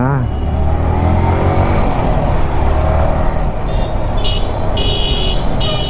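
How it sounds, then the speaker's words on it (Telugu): Loud, busy road traffic on the way from Vijayawada toward Visakhapatnam, heard while riding a Yamaha R15 M: engines rumble continuously, several horns toot near the end, and a voice speaks. "ఇంత ట్రాఫిక్ ఏంది నాయన?"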